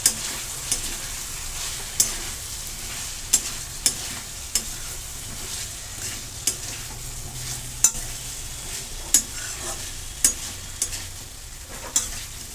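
Stuffed bitter gourd coated in spice masala is stir-fried in a pan: a steady low sizzle with sharp spatula knocks against the pan about every second, and no voices.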